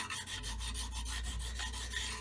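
Hand scraping on a steel surface, a machine-tool part in a restoration where cast iron had been scraped before; quick, rhythmic rasping strokes repeat about every fifth of a second, close and fairly quiet, with no voices.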